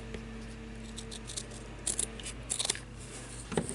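Scissors make a few short, crisp snips, close and quiet, as they cut pieces for a miniature shabby chic tea set trinket box over a faint steady hum.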